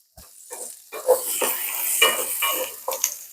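Onions cook in a hot pan while being stirred, with a run of utensil scrapes and clinks against the pan over a soft sizzle, close by.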